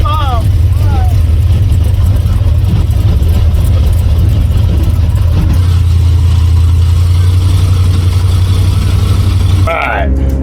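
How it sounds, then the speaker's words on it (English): Airboat engine revving hard at takeoff on a nature tour, a loud low rumbling drone that holds steady and then drops off near the end, with faint voices partly underneath. "it's an unbelievably powerful engine we fly"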